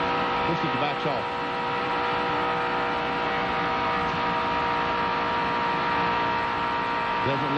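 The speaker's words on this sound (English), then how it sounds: "The sound you hear, that whine you hear, is the accelerator of the engine" A race car engine holds a sustained, high-pitched whine at full throttle during a 1995 ARCA race at Talladega, loud and continuous, with brief muffled voices at the start and end.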